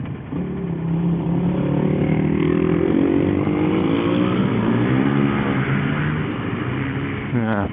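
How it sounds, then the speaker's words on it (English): Quad bikes ride past with a revving, buzzing drone, heard from inside a moving vehicle over steady road noise and wind, moderately loud throughout. "See, the quad bike boys are out as well."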